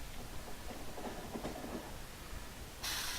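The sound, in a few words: train driving in the video game Factorio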